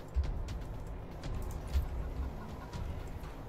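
Chicken clucking in the Wasteland 3 video game, a few soft intermittent clucks over a steady ambient background.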